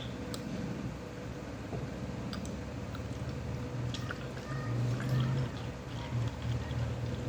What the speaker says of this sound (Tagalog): Talagyan ko na siya ng tubig.